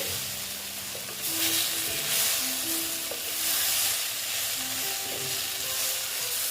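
Small tengra fish being fried and stirred together with potato and eggplant in a pan, giving a steady close sizzle with occasional stirring sounds and no talking.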